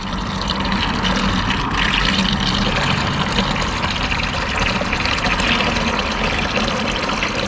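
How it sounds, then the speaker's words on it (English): Steady, continuous splashing and trickling of water being gently poured off ash from burned computer chips, with a constant gurgling flow and no voices. "You see how gently I'm pouring it off?"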